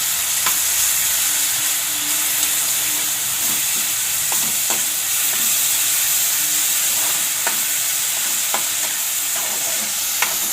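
Chopped onions sizzle steadily in a hot pan while being made for a gravy kofta curry, a dense continuous frying hiss broken by scattered clicks of a spoon stirring against the metal.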